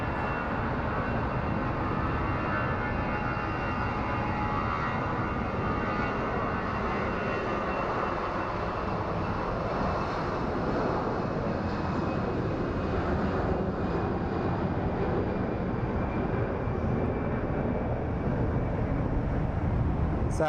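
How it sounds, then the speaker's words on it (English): A small private jet lands at Phoenix Sky Harbor airport, its engines producing a steady, broad roar that holds for about twenty seconds at moderate distance, with no voices present. "all we are seeing landing on this side seem to be small private jets."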